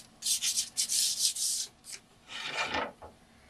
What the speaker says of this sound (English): once we've sanded the frame nicely and got it as good as we possibly can